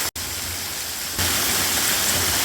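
A waterfall gushes hard inside a large cave, making a steady, dense roar of rushing water with no voices. The roar jumps noticeably louder partway through, just after a brief dropout near the start.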